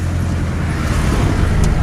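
Road traffic idles and rolls at a traffic light, a steady, close rumble of car and bus engines with no clear pass-bys.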